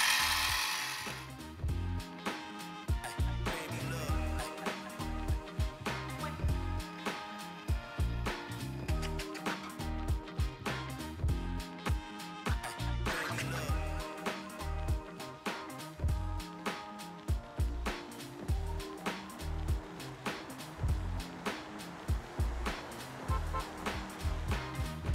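A mini mill cuts aluminum at fast speed, making a continuous grinding, chattering machine noise with repeated rhythmic pulses and brief dips, close and fairly steady throughout.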